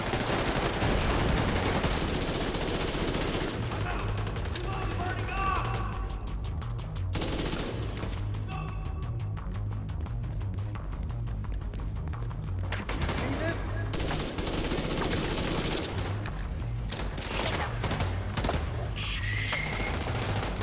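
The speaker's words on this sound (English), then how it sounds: "I'm getting shot at from the side and I can't reach it" Gunfire in The Division 2 video game, dense rapid bursts and repeated shots running almost nonstop over a constant game soundtrack, fairly loud throughout.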